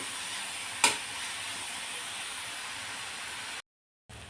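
Onion sautéing in hot oil gives a steady, fairly soft sizzle close by, with one brief sharp clink early on and a short break near the end, no voices.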